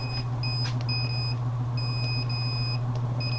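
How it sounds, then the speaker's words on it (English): Repeated electronic beeps from an egg incubator's temperature and humidity alarm buzzer, sounding in short bursts of paired tones over a steady low hum. "oh, that buzzer."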